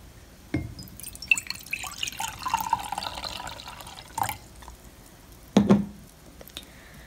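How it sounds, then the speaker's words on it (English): Water poured into a jar as the first step of making a DIY snow globe, heard as a sharp splash followed by trickling and dripping, then a second splash near the end. "The first step is to pour your water"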